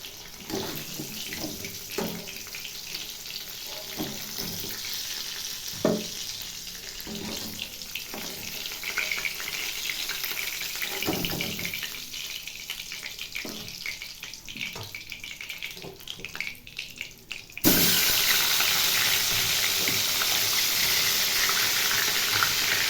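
Large fish frying in a wok in a home kitchen, first a patter of scattered crackles and pops, then a sudden loud, steady hiss of sizzling oil that continues to the end, with no talking.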